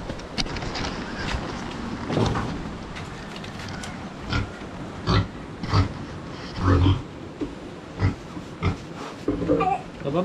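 Pigs on a hot rural Philippine farm grunting and snorting in short irregular bursts amid wind and outdoor background noise, fairly close, with no clear talking.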